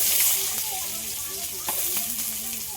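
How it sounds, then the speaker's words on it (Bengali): Onion tipped into hot tempering oil crackles and hisses close by, loudest at the start and then settling to a steady sizzle while a person talks over it. "পেঁয়াজ ফোড়নে দিয়ে দিচ্ছি"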